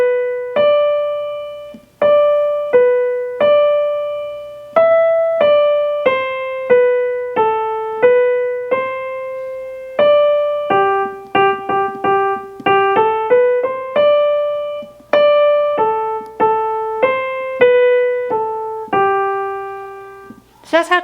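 A piano plays the melody of This Old Man at a slow tempo, one clear note at a time in a steady, even rhythm. The notes ring close and bright for about twenty seconds without talking.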